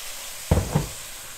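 Langoustines in a pan give two quick sizzling bursts as soy sauce and water are poured in, each hiss flaring up sharply and then settling to a faint background crackle.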